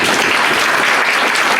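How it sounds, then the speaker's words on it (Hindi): A classroom of students in a chemistry lesson breaks into loud, dense applause, steady clapping from many hands filling the whole moment. "इसके सम्मान में ताली बजा।"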